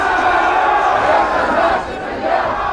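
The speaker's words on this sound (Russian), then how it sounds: "огромная толпа людей, когда она синхронно что-то кричит и скандирует" A huge stadium crowd roars and chants in unison, a loud, dense wall of massed voices that holds steady before dipping slightly and swelling again.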